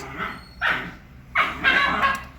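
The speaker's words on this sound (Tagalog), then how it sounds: "Ingay ng aso." A dog barks a few times nearby in a home kitchen, with sharp, separate yaps and short pauses between them and no talking over them.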